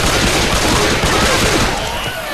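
Sustained gunfire in Left 4 Dead 2 during an expert campaign, a loud, continuous barrage of shots lasting the whole moment without a break.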